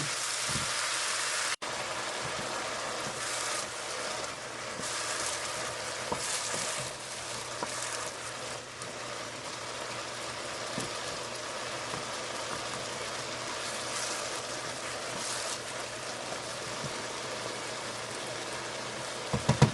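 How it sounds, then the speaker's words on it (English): Mushrooms sautéing in a pan, a long, even sizzle like light rain that holds steady throughout, with a few faint utensil taps and a brief clatter at the very end; no one speaks. "We're going to add our mushrooms in there. And we're going to let all of this kind of saute down."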